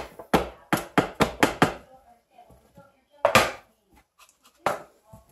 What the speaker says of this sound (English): Let's not bounce the seashells around.